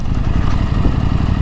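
KTM 890 Adventure R motorcycle engine running with the throttle closed, a steady low rumbling idle-like drone heard up close and alone, no voices.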